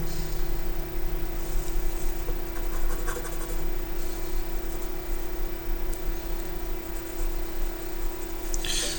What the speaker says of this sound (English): I'm just going to colour them in very quickly to get them matched up so we know what we're drawing